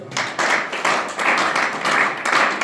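A church congregation claps together during a worship service, a dense, steady applause that swells in repeated rhythmic waves, loud and close, with no talking over it.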